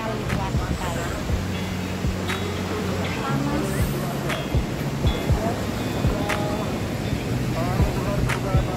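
Surf at Wediombo beach in Gunungkidul gives a broad, steady wash of waves and wind, with a person talking loudly over it.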